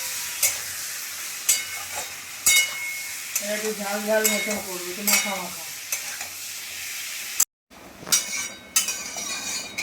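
Fish curry with small boiled potatoes fries and sizzles in a pan, with sharp stirring clinks against the vessel, brief spoken comments, and a short break in the sound near the end.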